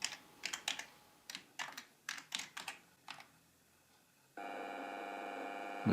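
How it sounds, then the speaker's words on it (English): Keys on a computer keyboard are tapped in a quick, irregular burst of close, crisp clicks while entering text into a FORTH block editor, followed by a steady electronic tone. "I'll type new screen."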